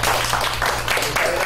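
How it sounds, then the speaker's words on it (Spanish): Participants in an emergency drill applaud themselves, a short burst of loud clapping over a low steady hum, with voices mixed in. "regalarse un aplauso a ustedes mismos"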